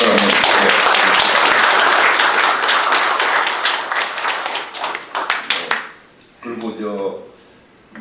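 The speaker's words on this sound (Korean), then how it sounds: "박수 한번" An assembly of retired generals at a regular general meeting claps for an honoured member, a loud sustained wave of applause that thins into scattered claps and fades out, with a voice speaking briefly at the end.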